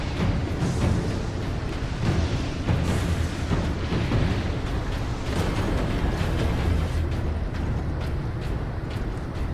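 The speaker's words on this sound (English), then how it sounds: "Grenades." Grenades burst in the Warhammer 40,000: Space Marine video game, with repeated booming blasts rolling one into the next over dense battle noise for several seconds, loud and close.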